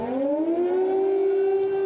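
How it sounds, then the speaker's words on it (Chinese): An air raid siren wails loudly and steadily in Kyiv, Ukraine, its pitch rising slightly at the start and then holding as a continuous tone. "乌克兰首都基辅加罗传出空袭警报"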